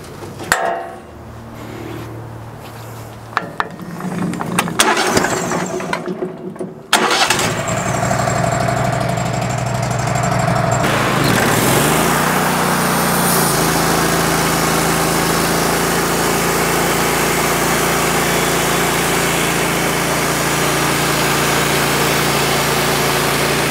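A sawmill blade sharpener and setter starts with clanking and rattling, then settles into a loud, steady mechanical hum and grind that runs on alone.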